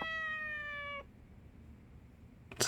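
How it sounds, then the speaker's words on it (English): A striped kitten in the video game Yakuza 4 Remastered gives one clear, sustained meow lasting about a second, followed by quiet and then a brief noisy burst. "The striped kitten meows back."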